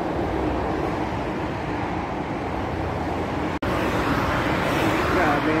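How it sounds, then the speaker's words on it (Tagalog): Street traffic in Madrid rumbles steadily as cars pass along a busy avenue on a Sunday, a continuous, fairly loud roadway hum with a brief cut partway through and someone talking over it. "Daming mga sasakyan."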